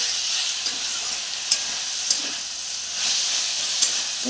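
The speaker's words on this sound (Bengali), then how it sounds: "এবার এটাকে ভাজবো।" Leafy greens fry in oil in a wok with salt, sugar, green chilli and turmeric, giving a steady close sizzling hiss with a few soft stirring scrapes and clicks, no voices.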